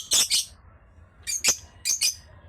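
Pet African birds give sharp, bright squawking calls in three separate paired bursts, close and loud against a quiet room, with no talking.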